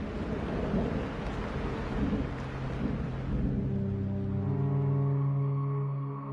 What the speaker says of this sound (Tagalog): Padilim na at umuulan pa rin sa labas.